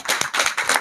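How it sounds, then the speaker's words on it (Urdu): Hands clapping loudly and close at a high court bar association gathering, three or four distinct bursts of claps in quick succession within under a second. "بھرپور تالیوں میں شیر افضل مروت صاحب۔"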